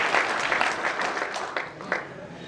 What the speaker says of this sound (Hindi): मैं चाहता हूं उनके सम्मान में एक बार जोरदार तालियां आपके बीच में जाए।